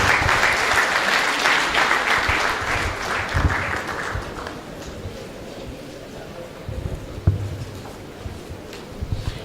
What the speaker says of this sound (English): Please, let's keep the applause going as he comes forward, please.